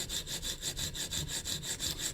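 A CPM-S110V steel knife blade is stroked across diamond matrix stones on an Edge Pro sharpener, giving an even, rhythmic rasping scrape, about four strokes a second, close and fairly quiet.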